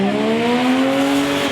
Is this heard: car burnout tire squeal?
yes